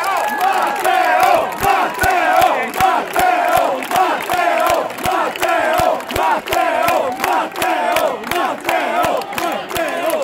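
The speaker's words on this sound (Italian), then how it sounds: "Matteo Salvini, ora gli lasciamo la parola e lo accogliamo con un grande applauso" A large crowd at an Italian political rally claps in a steady rhythm while voices chant and cheer together, loud and close throughout.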